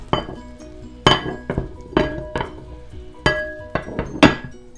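A lid is set on a metal cooking pot while shrimp bake with glass noodles in a home kitchen, giving a series of sharp metallic clanks and clinks in an irregular rhythm, close and fairly loud.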